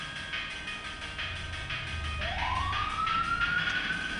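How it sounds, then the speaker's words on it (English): An ambulance siren outside rises into a long, steady wail, heard faintly from a distance over low electronic Game Boy music. "And there's an ambulance outside."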